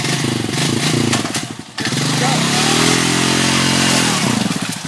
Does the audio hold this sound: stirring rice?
no